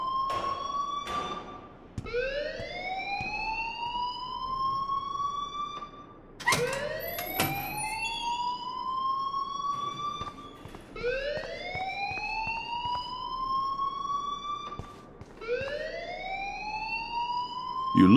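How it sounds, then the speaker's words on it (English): A loud electronic alarm in the video game Life Is Strange wails in repeated rising sweeps, each tone gliding upward and looping several times, continuous and prominent with no talk. "please turn off that alarm since that's your job"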